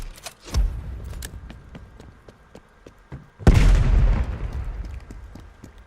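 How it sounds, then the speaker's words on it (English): Spawn tube fired in Black Ops Cold War on the Garrison map: a loud launching boom with a sustained rushing burst, following a quieter stretch of game ambience and faint repeated pops. "As long as you have this lined up, you can just shoot it right away like so."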